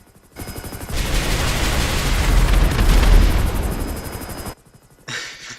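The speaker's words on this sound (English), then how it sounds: "A burst of 7 missiles, basically." A rapid burst of seven missiles from a new vehicle in GTA Online, the explosions merging into one long, loud, rumbling roar that swells and then cuts off, followed by a brief quieter sound.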